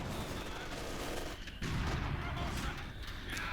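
Dense automatic gunfire from an LMG in Company of Heroes 2, a World War II real-time strategy game, rattling steadily and close up amid heavy battle noise, with a brief dip before the firing swells again.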